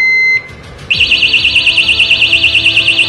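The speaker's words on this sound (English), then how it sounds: "If you tamper with it at all, the alarm goes off." Ox Lock trailer hitch lock tamper alarm: a short steady tone cuts off, then a loud, close, rapidly warbling electronic alarm pulses continuously to the end.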